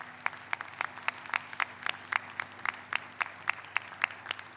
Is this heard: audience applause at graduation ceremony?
yes